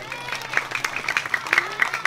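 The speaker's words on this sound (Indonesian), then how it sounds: "Mana tepuk tangan?" An audience at a Balinese temple performance claps, scattered sharp claps in an uneven rhythm over a low hum, fairly close, with faint crowd murmur.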